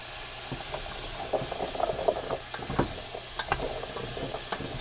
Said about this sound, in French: On va venir rajouter des carottes pour les faire roaster un petit peu.